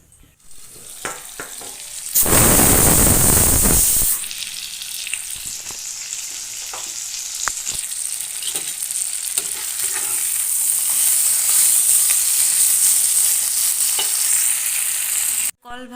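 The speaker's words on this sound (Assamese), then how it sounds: "এইখিনি ফ্ৰাই কৰি লওঁ।" Sliced plantain and potato fry in a pan with a loud burst of sizzling as they go into hot oil, settling into a steady crackling hiss with occasional stirring scrapes until it cuts off.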